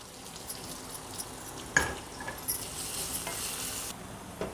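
Garlic cloves hit hot oil in a pan already frying green chilies for a Mysore dal gravy, giving a soft, steady sizzle with a sharp stirring scrape and occasional light crackles.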